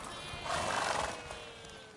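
A horse in The Witcher 3 lets out a loud neigh that swells and fades over about a second, with faint hoofbeats and ambient game sound beneath.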